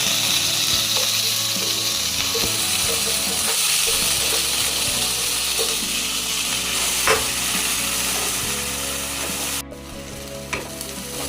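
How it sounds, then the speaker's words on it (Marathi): Masala sizzles steadily in hot oil in a kadhai for a curry of drumstick pods, a continuous frying hiss with occasional stirring scrapes, close and fairly loud throughout, no voices. "तेलामध्ये मसाला घालून मसाला छान तेल सुटेपर्यंत आपण परतून घेणार आहोत."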